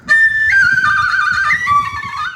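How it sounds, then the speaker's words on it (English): A whistle, used as a source for indie game sound effects, plays a loud, sustained, close tone that glides and wavers in pitch for about two seconds, alone. "the whistle effects I got were from this"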